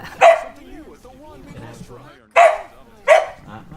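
A puppy barks for a toy with three sharp, high yips close by, separated by pauses. Faint whimpery sounds come in between, and speech is also present.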